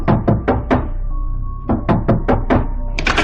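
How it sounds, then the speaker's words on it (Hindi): Loud, close knocks on a door come in two rapid bursts of sharp raps separated by a short pause, with no voices. "बाहर दरवाजे पर हो रही थी दस्तक"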